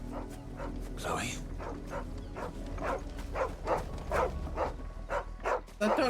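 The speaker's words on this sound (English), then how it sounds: "That dog's not white." Dog barks in the Final Fantasy XVI video game, a steady series of mid-pitched barks and yips over a low background hum, with voices talking around them.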